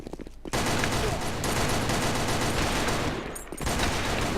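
Dense, sustained gunfire from a multiplayer shooter match, loud and continuous for about three seconds with a brief lull before the firing resumes; no speech over it.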